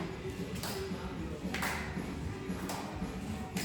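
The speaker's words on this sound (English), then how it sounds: "step behind, clap behind. Clap behind, clap behind." A few sharp, isolated hand claps, about three spaced a second apart, ring out quietly in a standing balance and core exercise class, with faint shuffling between them.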